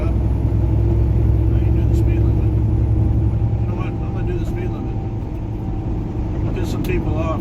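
A car cruises a Kansas highway with a steady low road rumble and engine drone, constant and loud from inside the cabin.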